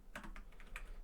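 Quick bursts of keystrokes on a computer keyboard while writing code, about half a dozen soft clicks in an uneven rhythm, close and quiet, with no voices.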